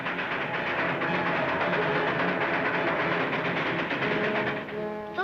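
A train rolls along the rails with a steady, loud rumbling clatter, continuous throughout and ending with a brief tonal whine, no voices heard.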